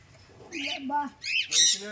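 Several birds squawk and chirp nearby in short, bright bursts, a few calls overlapping, with a person talking softly underneath.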